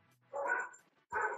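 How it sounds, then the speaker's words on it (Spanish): Household dogs barking at home, two separate bursts of barks, fairly quiet and somewhat distant, heard alone with no talking. "acá empezó ruido de perros, ruido de todo"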